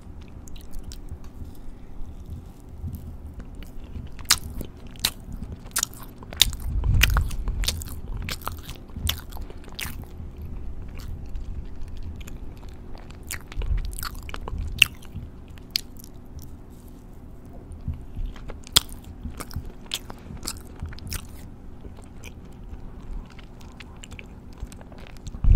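Someone bites into and chews a soft, baked Japanese snack bought in Tokyo, close and crisp, with sharp clicks and moist squishy chewing sounds scattered across a quiet background.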